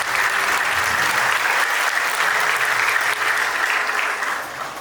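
A wedding congregation in an Ethiopian church applauds the bride and groom, a dense, steady wash of many hands clapping together, loud and sustained for several seconds before easing slightly at the end.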